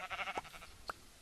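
A Minecraft sheep bleats softly in quick wavering pulses, followed by a brief second bleat about half a second later, quiet and close.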